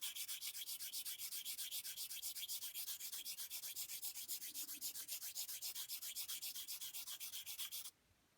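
A charcoal stick is sharpened on a high-quality sanding pad, giving faint, close, rhythmic rasping strokes at about four per second that run steadily for roughly eight seconds before stopping.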